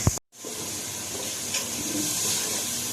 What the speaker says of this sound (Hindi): मैंने इसके अंदर थोड़ा सा पानी डाला।